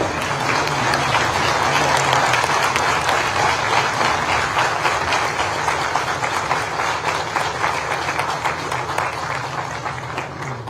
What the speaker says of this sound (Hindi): मुझे लगता है इस तालियों से मैसेज दिल्ली पहुंच गया होगा।